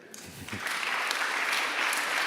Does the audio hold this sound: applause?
yes